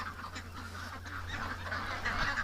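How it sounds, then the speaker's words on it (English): Ducks at a lake honk and quack in a continuous noisy chorus, moderately close and fairly faint overall, with overlapping calls from several birds. "I saw all the ducks sitting here this morning"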